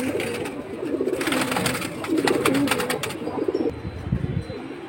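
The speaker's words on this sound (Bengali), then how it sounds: "কারণ কবুতর প্রচুর আছে" A flock of pigeons coos repeatedly at a loft, overlapping soft throaty calls with occasional wing flaps and light chirps close by.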